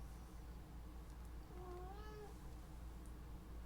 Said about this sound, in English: don't know if you guys could hear my cat meow at me